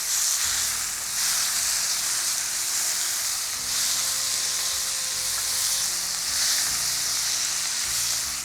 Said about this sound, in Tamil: இப்போ இந்த தக்காளி ஓரளவுக்கு நல்லா கரைஞ்சி வதங்கணும்